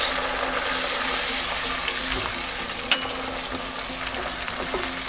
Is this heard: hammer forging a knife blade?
no